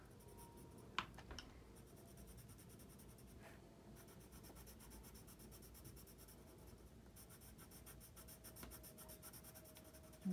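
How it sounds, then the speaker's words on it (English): An ARTEZA woodless coloured pencil, worked on its side, scratches and rubs across drawing paper in quiet continuous strokes, with a few sharper taps near the start. "It's so nice to be able to use the side of the pencil like this."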